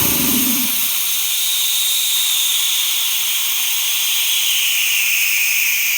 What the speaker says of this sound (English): the blow off is louder than the compressor